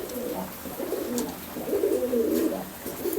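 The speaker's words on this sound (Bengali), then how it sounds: "এটা দেখতে পাচ্ছ ম্যাট্রাস পায়রা" Lahore Shirazi mattress pigeons, a newly adult breeding pair, coo in low, rolling phrases close by. The sound swells louder in the second half, with no one speaking.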